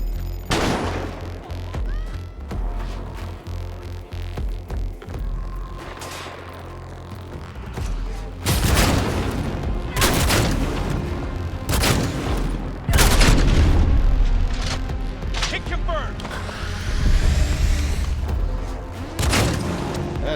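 Heavy sniper gunfire in Cyberpunk 2077 booms repeatedly, loud and close, with several sharp blasts and rumbling impacts over a dense bed of game noise and music.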